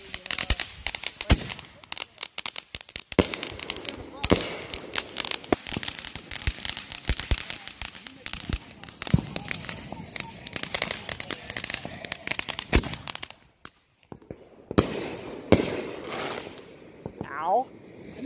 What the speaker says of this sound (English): Those are quick burn on fuses.